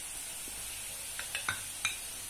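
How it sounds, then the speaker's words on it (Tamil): Vermicelli is stirred in boiling water in a pot, a low steady bubbling bed with four or five short utensil knocks and scrapes near the end, no voices. "தண்ணி கொதி வந்த உடனே இந்த சேமியாவை போட்டு கிளறணுங்க"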